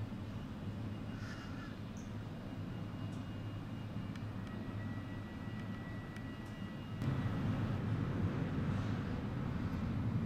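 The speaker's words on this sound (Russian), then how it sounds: "Прилетел самолет со Стамбула." Jet airliner arriving from Istanbul at an airport gate, a steady low engine rumble and broadband roar that grows louder partway through, with no talking.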